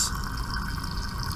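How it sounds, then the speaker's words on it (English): Water spurts steadily from a squirt bottle into a 50 ml glass beaker in a lab, a close, continuous hiss of liquid for a second or so with no talking. "We're going to pour in, using our squirt bottle, 20 milliliters of water into our 50 milliliter beaker"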